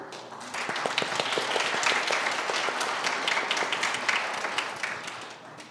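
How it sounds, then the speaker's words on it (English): Sustained applause from an audience at a panel dialogue on studio portraits of Black women leaders, dense steady clapping swelling in and holding for several seconds before easing off. "I love that we're clapping after each answer."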